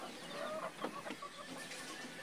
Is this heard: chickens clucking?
yes